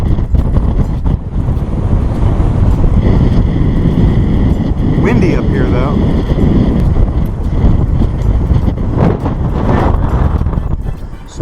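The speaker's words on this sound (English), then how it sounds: "Windy up here though." Loud wind gusts roar across an open upper deck of the cruise ship Voyager of the Seas, a heavy continuous buffeting with faint hiss and rumble underneath.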